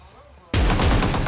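A sudden loud burst of sustained gunfire erupts after a quiet moment in the mobile battle royale game PUBG Mobile on the Erangel map, dense and close, continuing to the end.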